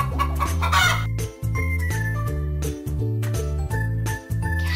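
Chicken clucking and crowing over a looping, jingly background tune, a few short calls standing out near the start before the music carries on.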